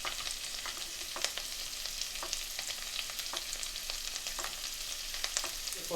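Onions soften in a tiny bit of oil in a pan, making a quiet, even sizzle with light crackles and a faint scrape near the end, with no one speaking.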